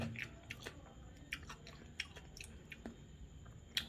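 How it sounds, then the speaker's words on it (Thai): Someone chews a mouthful of freshly made Thai cucumber salad (tam taeng), producing soft, moist crunching and squishing bites at an irregular pace, close and quiet with no talking. "ชิมก่อนว่าอร่อยไหม"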